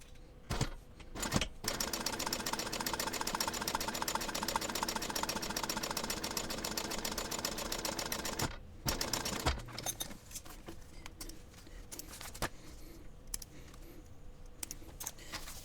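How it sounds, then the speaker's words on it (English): A sewing machine runs a long steady stitching line on an onigiri-style backpack, a fast even whirring hum that stops briefly near the start and again midway, then resumes more quietly. "now I want to stitch right on top of this stitching line here"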